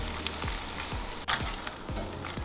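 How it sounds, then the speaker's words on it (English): Butter being whisked into a fish piccata sauce in a hot pan, a steady sizzle and hiss with soft, repeated scraping strokes of the whisk against the pan, close and continuous with no talking. "We're gonna keep stirring this until we get a nice emulsified sauce."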